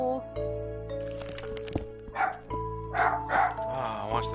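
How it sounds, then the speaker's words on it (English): A dog in a modded survival video game barks several times in quick succession, sharp and fairly loud over a steady background of sustained game tones and clicks. "What's the dog barking for?"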